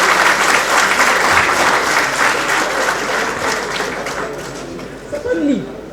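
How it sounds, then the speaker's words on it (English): Loud, sustained audience applause at a medical profession induction ceremony in Zaria, filling the hall and gradually tapering toward the end. "I think they deserve a round of applause."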